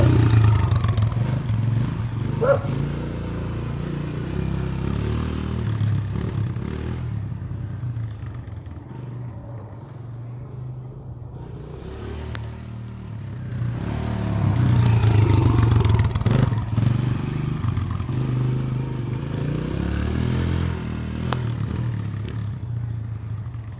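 A new motorcycle's engine idles and runs nearby, a loud, rough, rumbling drone that swells and dips over about twenty-four seconds with some clattering and scraping mixed in.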